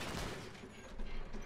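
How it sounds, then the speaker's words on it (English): A .50 caliber machine gun on a Stryker vehicle fires in the war game Combat Mission: Black Sea, a short, dense, continuous rattle of rapid shots heard at moderate distance. "so that's a 50 cal from our Stryker"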